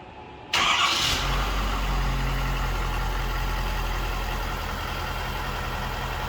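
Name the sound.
pickup truck engine starting and running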